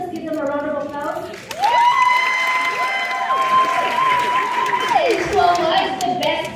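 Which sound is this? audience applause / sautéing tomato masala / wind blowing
audience applause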